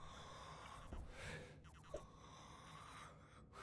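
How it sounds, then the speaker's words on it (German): A character in the game Stationeers wheezes with a rattling, raspy breath, a few gasping inhalations and snorts, faint and close against a steady low background. "ist der wirklich die ganze Zeit so am Rumröcheln?"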